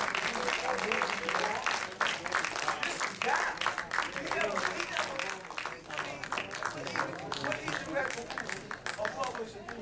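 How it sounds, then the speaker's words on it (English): An audience claps loudly and steadily for a film director at a screening, with a dense patter of applause running the whole way through and voices mixed in beneath it. "stand up and give him a round of applause"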